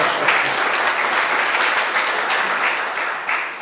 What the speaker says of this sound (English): Can I hear a round of applause for Greta?